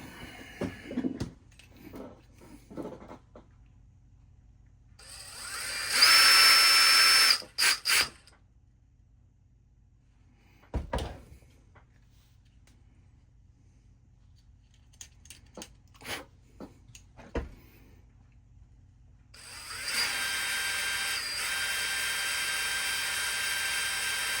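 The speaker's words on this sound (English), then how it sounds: "Let me go get my drill." Short bursts of a high-pitched electric drill whirring while drilling holes during a Macintosh 128/512 computer repair, first a brief run, then a longer steady drilling stretch near the end, with clicks and quiet pauses between.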